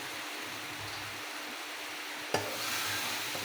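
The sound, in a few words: okra added to spiced oil, sizzling and stirred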